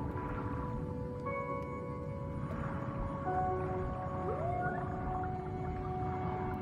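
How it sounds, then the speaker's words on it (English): A whale or dolphin call from the underwater game Under the Waves sings out in long, eerie tonal moans with a rising swoop, set over a low, rumbling underwater ambience. "I heard a dolphin, or a whale"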